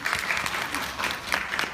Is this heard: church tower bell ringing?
no